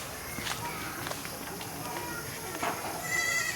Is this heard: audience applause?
no